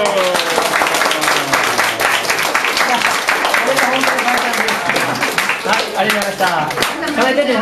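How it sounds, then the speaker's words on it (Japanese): Audience applause fills a room, sustained and loud with crisp individual claps, while voices and some cheering mix in throughout. "拍手を。"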